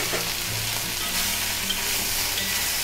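Boiled taro frying in oil with asafoetida, curry leaves and turmeric, giving a dense, steady sizzle that fills the whole moment, close and loud with faint stirring underneath and no voices.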